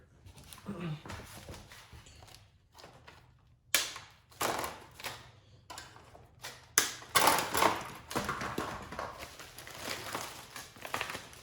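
Packaging being cut away from a RadRover 6 Plus e-bike during assembly, with sharp snips, plastic rustling and thuds in irregular bursts close by.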